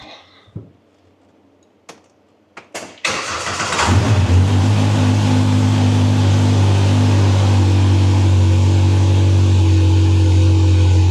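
A Polaris Pro R side-by-side engine starting after an ECU install: a few clicks and cranking bursts, then the engine catches and settles into a loud, steady, close idle.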